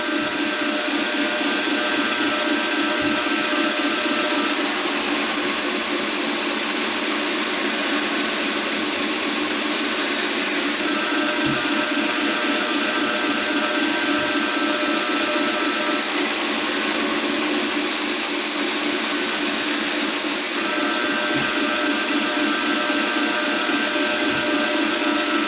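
Heat-treated knife blade being ground on a grinder, steady loud abrasive roar and hiss with periodic shifts in brightness as the blade is worked across the wheel.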